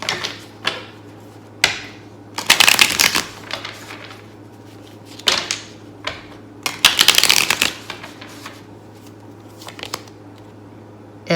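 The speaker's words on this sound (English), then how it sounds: "Good hard shuffle." Close-up riffle shuffles of a deck of tarot cards, several quick crackling bursts separated by short pauses and lighter taps, with no talking.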